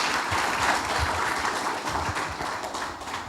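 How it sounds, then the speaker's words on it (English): An audience applauds young public speakers at a youth speaking event, a steady wash of clapping hands holding at an even, fairly loud level throughout without any voices. "Then, can we clap for them?"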